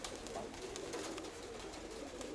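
Pigeons cooing softly and continuously nearby, a low murmuring coo over a dense, hissy background.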